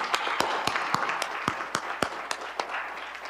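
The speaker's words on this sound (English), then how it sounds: "applause to the panel" Sparse, scattered clapping from a small audience at the end of a cyberspace conference panel discussion, distinct individual claps, fairly faint and alone.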